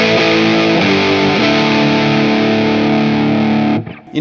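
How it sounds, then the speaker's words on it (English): A Stratocaster played at high gain rings out in heavily distorted, sustained, saturated chords for a few seconds, loud and close, then cuts off abruptly near the end. "That's a lot of gain"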